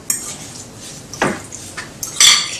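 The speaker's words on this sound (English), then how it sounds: "you can then mix the tofu with all the wonderful, good smelling aromas from those spices" Metal utensils clink and scrape against a bowl while tofu is mixed with spices for a vegan eggless salad, a few short clatters with a brighter burst near the end, close and fairly loud, with no talking.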